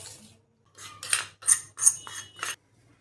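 Metal spoon scraping and clinking against a bowl while stirring warm ghee into flour for mawa modak dough, a few short bursts of rasping strokes close by with pauses between, no talk.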